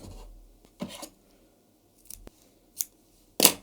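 Scissors snip crochet yarn on a handmade dragon toy in four or five short, crisp, close cuts, spaced apart with quiet pauses between them.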